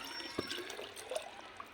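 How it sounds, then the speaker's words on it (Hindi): Water is poured onto freshly transplanted spinach seedlings in a garden bed, making a soft, faint trickle and splash close by for under two seconds, with no talking. "तो अभी इसमें एक बार ही पानी देंगे"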